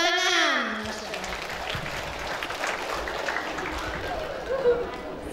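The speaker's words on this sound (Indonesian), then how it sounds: "Alhamdulillah, tepuk tangan." An audience at a pesantren santri exam event breaks into steady clapping that sustains for several seconds, following a voice at the start.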